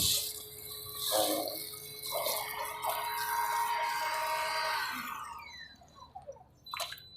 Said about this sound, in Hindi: और अब ये पानी बिल्कुल साफ़ निकल रहा है